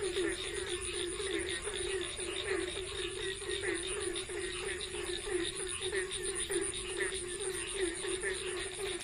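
Night chorus of frogs croaking and crickets chirping outdoors in Bantul, Yogyakarta during a power outage, a dense, steady pulsing drone with a shrill insect layer above, faint and continuous.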